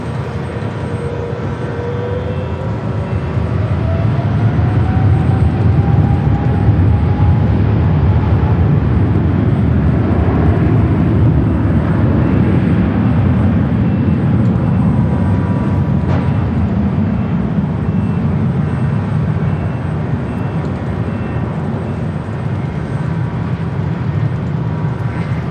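A Boeing 777 lands on runway 24 right at Los Angeles LAX airport, giving a loud, sustained low jet roar that swells and then slowly eases over about twenty-five seconds, with a faint rising whine early on.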